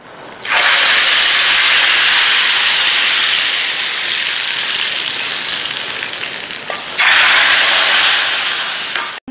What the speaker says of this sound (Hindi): 30 सेकंड इनको मिक्स करके तड़का लगा लेते हैं